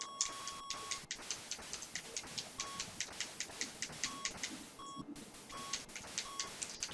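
Steady electronic beeping from the old arcade shooter 1942 repeats in a quick, regular pulse with occasional longer tones, fairly faint and with no talk over it.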